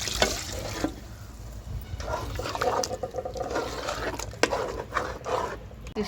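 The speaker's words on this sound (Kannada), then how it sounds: "ಇವಾಗ ನೀರು ಇಟ್ಕೊಳ್ಳೋಣ." Water is poured into a cooking pot over spiced oil for a mutton curry, giving a continuous splashing, gurgling pour with small clatters, close and fairly loud, with no speech.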